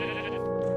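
Sheep bleating in the video game Minecraft, a single close, loud, steady bleat heard on its own.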